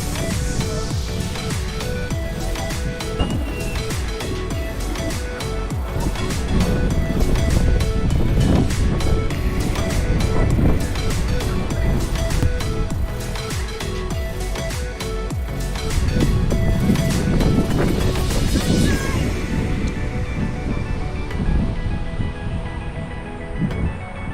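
Steady wind and lapping waves on open water during a fishing trip, a continuous broad rush that swells louder in gusts, with no talking.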